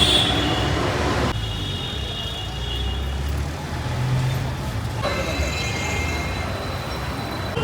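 A metro train rolls along the rails with a steady rumbling roar and clattering wheels, close and loud, the wheel noise shifting and squealing faintly as it passes.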